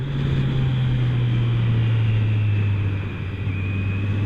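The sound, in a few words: Kawasaki Z900 motorcycle engine, downshifting and throttle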